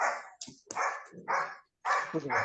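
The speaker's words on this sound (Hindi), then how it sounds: "कुत्ता भौंक रहा है" Dog barking from a neighbouring house, a run of several sharp, fairly loud barks in quick succession with a short gap, heard indoors alongside people talking.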